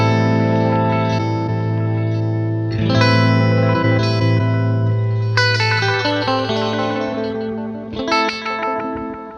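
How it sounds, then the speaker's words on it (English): An electric guitar runs through a Line 6 DL4 MkII pedal in Multipass multi-tap delay mode with automatic filtering, playing sustained notes and chords whose repeats cascade in rhythmic, filtered echoes, loud and upfront with no talking. "This is a multi-tap style delay with some automatic filtering."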